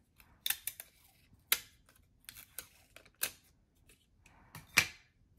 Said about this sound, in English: we'll just add this in the back with a couple of pieces of scotch tape